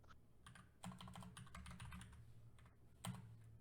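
Someone types on a computer keyboard in steady bursts of close, clicking keystrokes, with a couple of louder key hits standing out.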